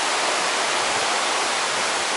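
River near Artro Hall in Coed Aber Artro, a constant loud rushing of flowing water close by, steady and unbroken with no voices.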